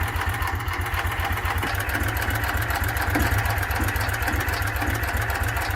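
A vintage 412cc side valve stationary engine running on petrol or TVO keeps a steady, rapid low thumping beat, loud and close, with no voices.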